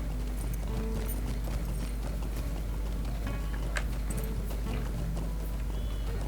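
Horse hooves clip-clopping steadily in a Lord of the Rings video game set in Angmar, a continuous mid-level rhythm over a constant low ambient hum, with a faint high chime near the middle.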